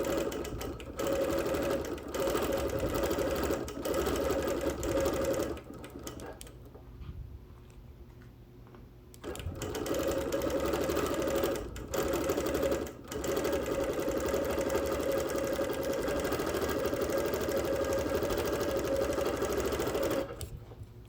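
A sewing machine quilts on wool with long runs of fast, steady needle chatter, close and clear, broken by a brief quiet pause before stitching resumes at the same pace.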